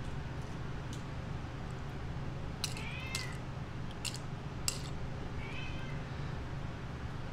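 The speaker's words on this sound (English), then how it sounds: "Cats are hungry, so they're yelling at me" Hungry cats meow a few times indoors in an apartment, short harmonic cries rising over a steady low hum and background noise, spaced apart and moderately close.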